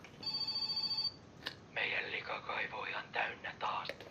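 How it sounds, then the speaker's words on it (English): Telephone ringing in the video game My Summer Car, a short electronic ring tone with steady tonal bands lasting about a second, followed by muffled chatter-like sounds, clear and moderately loud. "And now let's go and answer the phone."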